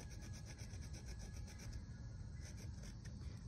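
A knife shaves and flattens a wooden bow drill hearth board to start a fresh hole, making faint, steady scraping and rasping strokes close by with no voices.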